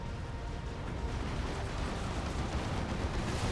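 Eldar Guardians firing their weapons in a Dawn of War 2: Retribution 1v1 battle, a dense continuous roar of gunfire and explosions with no clear individual shots, steady and loud throughout.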